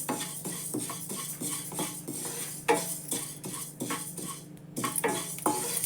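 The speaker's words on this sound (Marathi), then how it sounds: "जवस भाजून घेते" Flax seeds being dry-roasted in a pan, a utensil repeatedly scraping and clinking against the metal as the seeds are stirred and shuffled, steady close-up kitchen sounds with no talk.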